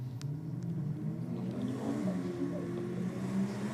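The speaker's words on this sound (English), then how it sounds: "Another couple of Falcons down here, a couple of XR6 turbos by the sounds." Ford Falcon XR6 Turbo race car engines rumble and rev steadily at a distance, a continuous low mechanical drone with some higher whine drifting through.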